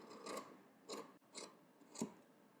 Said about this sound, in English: I'm just going to trim just a little bit, maybe take a 1/4 inch off.